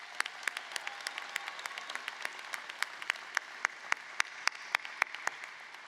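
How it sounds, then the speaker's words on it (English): Scattered clapping from a graduation ceremony audience, sparse and fairly faint, with distinct individual claps spread through the stretch over a low hall background. "Let's give her another round of applause."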